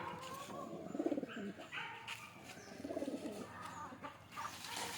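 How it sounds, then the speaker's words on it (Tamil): Pigeons coo in low, rolling bursts, two clear rounds close by, with soft chirps and a faint voice in the background. "ப்ரோ உள்ளே தான் புறாலாம் கிடக்குது."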